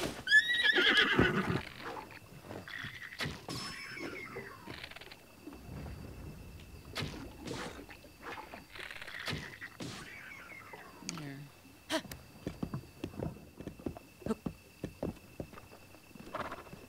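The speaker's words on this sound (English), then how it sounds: "Oh, he's a horse." A horse in Zelda: Breath of the Wild gives a loud whinny near the start, then hooves clip-clop in a quick run later on, with a player talking over much of it and birds chirping faintly.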